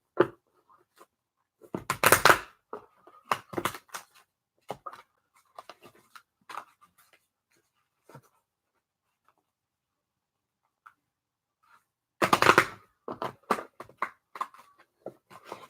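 Tarot cards are shuffled close by in two brief riffling bursts separated by a long quiet stretch, with soft scattered taps and card handling sounds in between.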